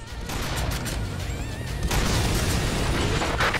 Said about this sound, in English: Oh, check out the grenades!